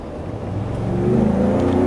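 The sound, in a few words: 2017 Ford Raptor exhaust revving under acceleration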